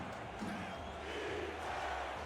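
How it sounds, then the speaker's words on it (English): Football stadium crowd on their feet during a tense third down, a steady broad roar of cheering and shouting that holds at a constant level throughout. "Crowd here on their feet, willing their defense to make a stop."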